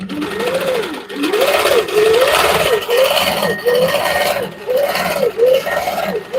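A quilting sewing machine stitches parallel back-and-forth lines, its motor whirring up and down in rhythmic rising and falling sweeps close by, with a voice talking quietly underneath.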